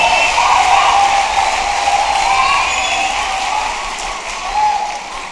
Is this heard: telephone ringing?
no